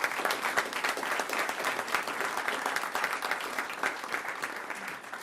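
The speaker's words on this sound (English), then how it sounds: "let's have a nice round of applause for our teachers and support staff." Sustained audience applause fills a board meeting room, dense steady clapping from many hands at moderate volume, continuing evenly for several seconds without a break.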